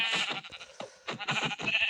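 Sheep in the Minecraft video game bleat repeatedly in quick succession, several wavering cries close and loud with brief gaps between them.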